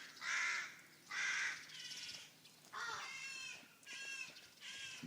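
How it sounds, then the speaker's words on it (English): Young rooks call near a church, a series of harsh, raspy caws in close bursts of about one per second, fairly faint with quiet gaps between them. "Hey, I can hear baby rooks."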